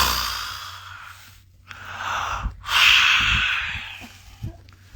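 A person pants heavily while short of breath at high, cold altitude, drawing in loud, close, rasping gasps and long exhales in an uneven rhythm.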